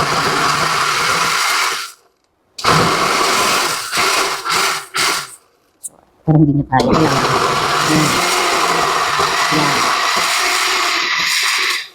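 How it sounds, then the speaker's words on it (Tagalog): An Oster Osterizer blender whirs loudly in bursts, cutting out briefly a few times before running steadily again, with a voice speaking briefly over it. "Very powerful naman itong blender na ito actually"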